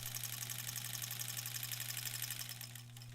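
A sewing machine runs continuously while stitching a granny squares quilt, a fast, even mechanical whir with a steady hum that eases off near the end; no one speaks.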